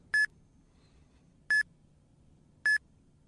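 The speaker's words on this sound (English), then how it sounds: "Then the signal beeped again." Three short electronic signal beeps, evenly spaced about a second apart, clear and isolated against quiet background hiss.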